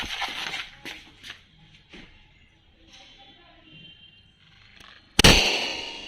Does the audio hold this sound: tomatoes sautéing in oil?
no